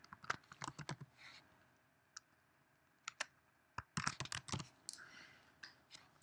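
Quick bursts of clicking keystrokes on a computer keyboard while text is entered in Photoshop, close and crisp, arriving in irregular clusters separated by short pauses, with no talking.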